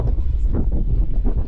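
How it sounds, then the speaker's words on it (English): Strong northerly wind buffets the microphone aboard a sailboat on a passage from Erie, Pennsylvania toward Toronto, a steady low roaring rumble with gusty swells and no talking. "It is very windy out of the north."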